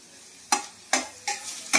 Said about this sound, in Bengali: এবারে আমি সব একসাথে ভাজি করে নিই।